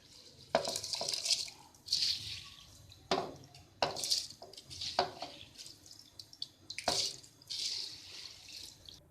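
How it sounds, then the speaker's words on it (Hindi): Rice goes into a pot of boiling salted water, giving splashing, pouring and bubbling bursts with a few metallic clinks, loud and close, in several uneven pulses. "अब चावल डालेंगे उसमें।"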